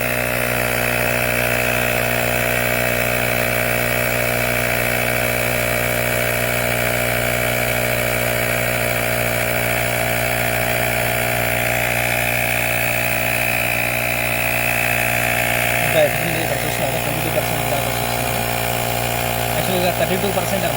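A portable instant car tyre inflator pump running with a steady, loud buzzing motor drone held throughout, joined near the end by someone talking over it.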